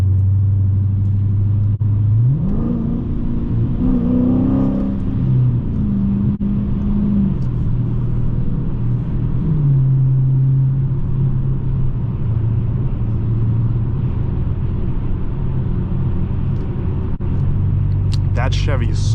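A 2017 Dodge Challenger Scat Pack 392 Shaker V8 rumbles loudly from inside the cabin, revving up through gear changes and then settling to a steady drone, with talking over it.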